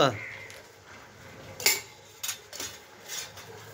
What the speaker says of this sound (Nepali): यो गिलासहरू लगाएर भाँडा धुने ठाउँमा पुर्याइदियो